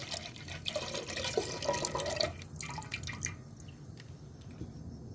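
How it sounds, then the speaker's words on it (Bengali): About a litre of milk is poured into a cooking pot for pithe: a soft, close liquid splash and gurgle for roughly two seconds, then a quieter settling trickle with no voices. "এক লিটার দুধ দিয়ে দিলাম"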